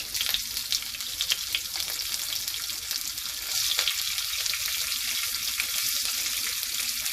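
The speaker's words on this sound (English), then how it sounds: "looks like my pan was a little hot. That is the reason it's really sizzling." Garlic and chilies sizzle steadily in hot oil, a loud continuous crackle and hiss close by, with no talking.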